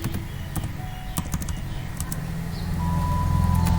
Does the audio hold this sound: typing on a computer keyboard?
yes